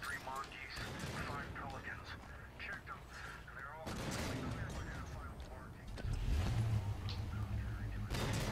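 Gunfire in the video game Halo 5, a continuous rattle of shots and blasts in the background, with voices talking over the game throughout.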